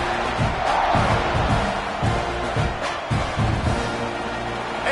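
A football stadium crowd roars steadily throughout, a dense sustained wash of cheering and shouting with swells, loud and continuous around a kickoff at a game against UCLA.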